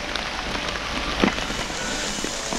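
Rain falling outdoors, a steady even hiss of drops hitting the ground, with one brief louder patter near the middle and nobody speaking.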